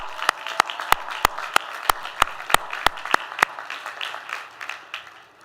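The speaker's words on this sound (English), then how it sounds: "Let's give our faculty and staff a big round of applause." About a dozen sharp, evenly spaced claps ring out one at a time in a large commencement hall, then soften into a quieter scattered patter from the audience as the faculty and staff are applauded.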